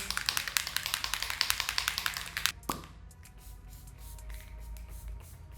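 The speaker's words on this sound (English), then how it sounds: "So this is the E.L.F. Makeup All Nighter Micro Finish Setting Spray." A rapid series of fine misting spritzes from a pump spray bottle, close and crisp, followed by quiet handling noise.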